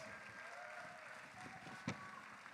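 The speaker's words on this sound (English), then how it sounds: "Another round of applause for the Americas" An audience at the 2018 Mister International pageant applauds the Americas contestants: a faint, steady wash of distant clapping with one brief louder thump near the end.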